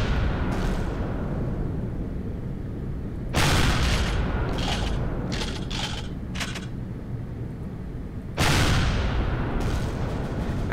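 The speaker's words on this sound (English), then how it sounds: "There, that was a gun" A video game fires several heavy, booming shots over a constant rumbling din, with two big blasts and a cluster of sharper cracks between them.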